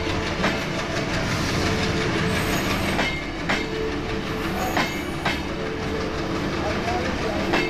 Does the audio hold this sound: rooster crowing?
no